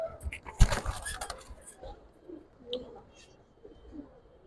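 A male Giribaz pigeon held in the hand gives short cooing calls mixed with handling noise and a sharp bump, while people talk nearby.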